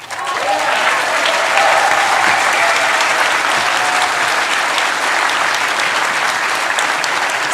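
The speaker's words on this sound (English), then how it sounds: "I know you may all get tired of clapping, but I'm going to ask you one more time for one last major round of applause" Sustained applause from the crowd at a Democratic nominating convention for US Senate, thick continuous clapping that rises quickly and holds at a steady, loud level throughout.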